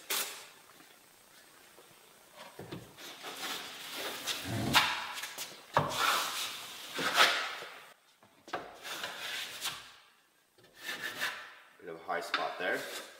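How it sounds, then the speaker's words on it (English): A 14-inch flat drywall knife feathers wet joint compound across a wall in soft, sweeping scraping passes that swell and fade at an irregular pace, heard up close with no talking. "now we're going to use a 14-inch flat, and we're going to use this edge on top of the mound"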